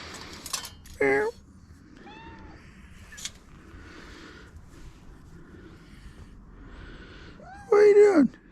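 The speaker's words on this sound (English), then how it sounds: "There's a kitty, kitty." A cat meows twice, once briefly near the start and again more loudly near the end, with quiet stretches and faint soft sounds in between.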